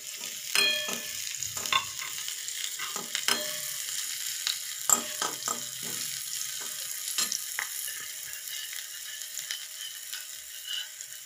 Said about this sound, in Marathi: याचा मी फ्राय करून घेते